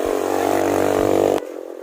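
Motorcycles pass along a road with a loud, steady engine drone that drops away sharply partway through, leaving quieter traffic noise behind.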